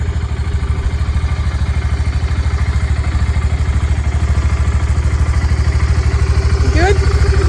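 A motorcycle engine runs nearby with a steady, rapid throbbing idle that holds loud and even throughout, then a brief rising rev as it pulls away near the end.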